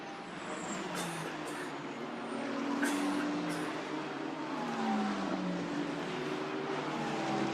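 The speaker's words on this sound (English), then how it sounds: "as there the Christopher Haas and Simon Riker Audi goes through" Audi GT race car running in qualifying at Brands Hatch in the GT World Challenge: a steady engine drone with pitch sweeping up and down as cars pass at some distance, with no voices.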